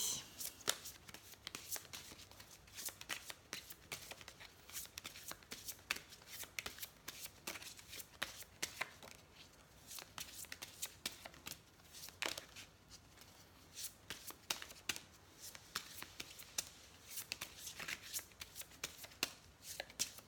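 A deck of fairy oracle cards is shuffled by hand in steady, close riffling bursts that go on continuously, fairly quiet, with no one speaking.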